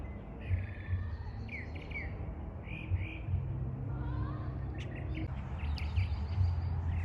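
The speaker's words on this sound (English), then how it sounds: "I love listening to the birds" Birds chirp and tweet in a garden near traffic, short bright calls scattered over a steady low rumble of passing vehicles, with faint insect or cricket tones in the background.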